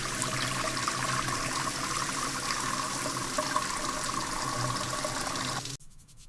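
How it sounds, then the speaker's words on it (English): A tap runs steadily while hands are washed, giving a close, continuous rush of water that lasts several seconds and then stops abruptly near the end. "I wash my hands."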